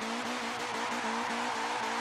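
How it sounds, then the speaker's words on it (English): A steady, wavering tire squeal from a Volvo 242 doing a rolling burnout in Forza 7, continuous and fairly loud over engine drone, with no talk. "Just a big old rolling burnout here, man."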